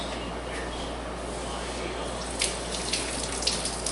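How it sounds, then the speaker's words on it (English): Cold water runs steadily into a vessel for corned beef brine, a soft continuous trickle with a few brighter splashes near the end. "I'm going to add more water now."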